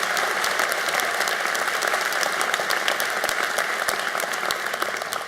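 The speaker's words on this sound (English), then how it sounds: "let's give a round of applause to our faculty, our graduates, their family, and our celebration today" Sustained audience applause at a graduate hooding ceremony, a dense steady patter of many hands clapping without a break, fairly loud and close, with no talking over it.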